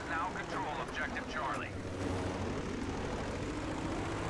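Propeller warplanes drone steadily through a Battlefield 5 multiplayer match, a continuous low engine roar beneath a voice talking over the first half.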